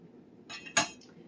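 Onions are chopped in a small food chopper for a cheese ball, with a few quick sharp clinks and clacks of blade and container, close and fairly loud.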